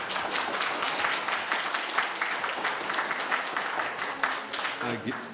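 Clapping from the audience at a West Covina city council meeting, a moderate burst of many hands that carries on steadily and fades toward the end, with a voice faintly present.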